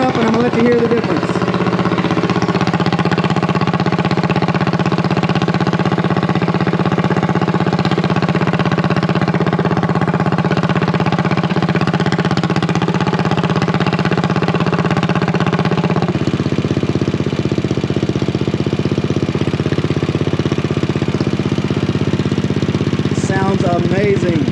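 A mini bike engine fitted with a custom megaphone exhaust idles and revs in a loud, continuous rumbling drone close by, with a change in tone partway through.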